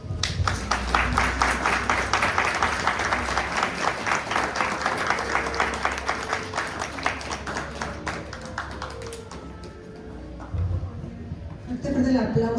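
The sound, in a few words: audience applause at a conference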